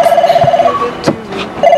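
A telephone in the Blade Runner game rings loudly in a steady electronic trill that pauses briefly and starts again, mixed with faint background sounds.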